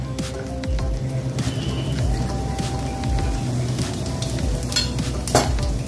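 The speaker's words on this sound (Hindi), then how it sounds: "कढ़ाई में तेल लिया है और इसमें मैं अब तड़का लगाऊंगी" Cumin seeds crackle and sizzle steadily in hot oil in a kadai, a dense close-up frying hiss with small pops and occasional stirring scrapes.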